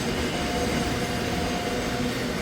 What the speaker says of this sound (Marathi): ही गाडी गेली की तर आपली गाडी येणार आहे.